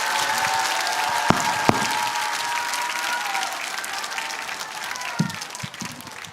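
A crowd at a Korean political rally gives loud, sustained applause to welcome a pastor to the stage, the clapping steady and full, with a couple of sharp knocks and fading slightly near the end.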